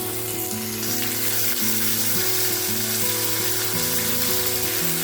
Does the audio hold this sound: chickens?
no